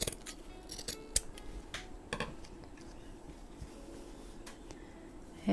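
Scissors snip paper for a handmade journal cover, a series of sharp crisp cuts at irregular intervals over a quiet background.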